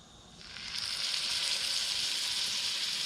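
Filet steak, sous vide cooked, sizzles in a very hot pan as it browns; the hissing frying noise swells after a moment and then holds steady and fairly quiet, with no voices.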